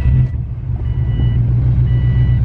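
A car engine idles steadily on a freezing cold day, a loud, even low rumble with a faint whine running continuously throughout.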